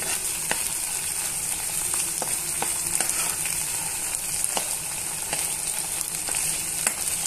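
Ginger garlic paste frying in oil, a steady close crackling sizzle with sharp intermittent pops and light stirring scrapes, no speech.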